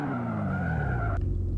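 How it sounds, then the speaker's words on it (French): Tires skid and squeal as a car drifts in the VR racing game Pocket Racer, a steady screech over engine drone that cuts off abruptly near the end while the motor hum continues. "Dérapage."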